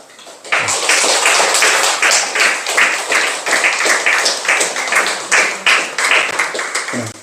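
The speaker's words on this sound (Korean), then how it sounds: "여러분 힘찬 박수로 축하해 주시고 맞이해 주시기를 바랍니다" A church congregation gives a sustained round of dense, lively applause for a newly baptized member, with a sharp start and a steady close roar that continues to the end.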